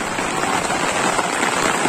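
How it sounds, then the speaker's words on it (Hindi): Steady rain pouring onto surfaces outdoors, a dense continuous hiss of drops, close and fairly loud, with no talking. "देखो बारिश का मजा ले रहा मंशु पूरा।"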